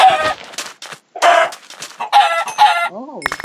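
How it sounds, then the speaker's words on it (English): Minecraft chickens cluck in short, loud bursts, several close calls with brief gaps between them, followed by a few other game sounds at the end. "and more chickens coming"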